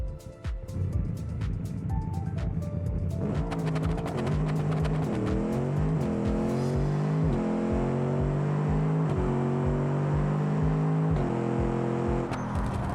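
A racing video game car in sport gearbox mode revs hard and accelerates through repeated upshifts, its engine note climbing and dropping in steady steps. It stays loud and close throughout, with no talking.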